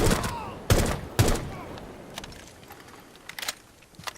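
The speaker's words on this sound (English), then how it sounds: "drop the hostage and just start shooting" Gunfire from Rainbow Six Siege, with loud close shots at the start and near the one-second mark, then lighter, scattered shots continuing.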